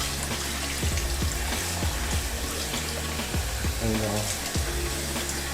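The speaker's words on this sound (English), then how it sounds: "Run the water." Tap water running over a steak in a kitchen sink, a continuous splashing rush with thumps and knocks of handling underneath, close and steady, with a voice briefly speaking.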